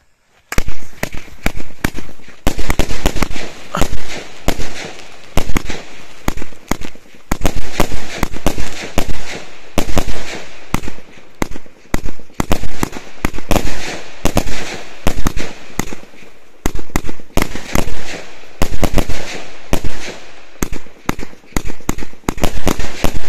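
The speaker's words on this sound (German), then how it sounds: "Heute für euch die EDAHA, Kaliber 25 Meter, 36 Schuss bei 500 Gramm NEM" EDAHA firework battery, 36 shots of 25 mm calibre with 500 g net explosive mass, fires a loud, dense barrage of sharp bangs and crackles in rapid bursts that run almost nonstop with only brief gaps.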